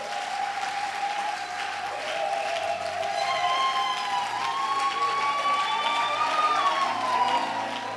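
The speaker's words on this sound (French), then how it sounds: "Est-ce qu'on peut acclamer le Seigneur notre Père?" A church congregation applauds and cheers at a worship service, producing a dense, continuous wash of clapping with rising whistles and shouts above it, loud and sustained throughout.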